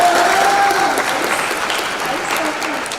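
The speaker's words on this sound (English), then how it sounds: "Can we just give a round of applause?" A crowd applauds steadily at a high school graduation, dense clapping filling the space, with a voice briefly audible over it at the start.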